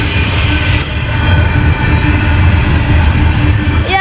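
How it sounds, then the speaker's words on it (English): A long CSX freight train of many cars rolls past Halethorpe station in Maryland at night, a steady, close rumble of wagons and wheels filling the whole stretch. "these are all CSX cars as long as you can see"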